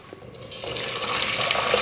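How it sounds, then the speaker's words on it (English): Boiling water from a kettle pours into a pan in a home kitchen, a close, rising liquid splash and gurgle that grows fuller and louder as the pan fills. "Now I'm going to put some boiling water in this pan,"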